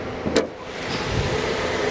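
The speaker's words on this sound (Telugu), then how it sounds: "ఇంజన్ అయితే సైలెంట్ ఇంజన్ ఉంది. పెట్రోల్ బండి అంటే మీకు తెలుసు." A petrol car engine runs quietly and steadily near the microphone, a low, even hum that holds throughout after a brief higher whir at the start.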